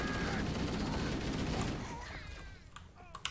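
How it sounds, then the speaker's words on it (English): Friendly gunfire in Halo Anniversary, a dense rattling burst of automatic weapon fire that fills the first two seconds and then thins into a few scattered sharp shots. "A lot of friendly fire going on, I'm guessing."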